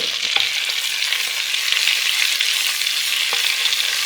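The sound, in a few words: spices roasting in butter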